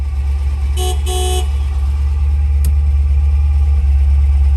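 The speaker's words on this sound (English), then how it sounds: "The horn is located under here." Horn of a 1957 Chevrolet Bel Air sounding in two short loud honks close by, over a steady low engine idle, followed by a faint click.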